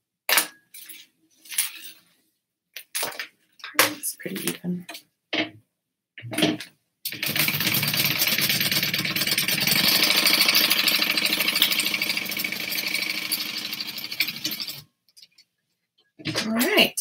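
A sewing machine runs a base stitch close to the edge of fabric for a satchel. The steady, loud whirr lasts about eight seconds without a break, with short bursts of talk before it and after it.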